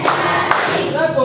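Hands clap in a classroom clapping game, with a sharp clap cutting through chanting voices.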